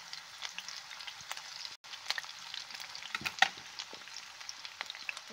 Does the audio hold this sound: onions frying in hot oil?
yes